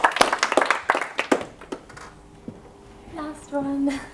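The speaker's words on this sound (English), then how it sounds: "Let's do it. Round of applause." A short burst of clapping from a small audience, quick and dense at first then thinning out, with speech following afterward.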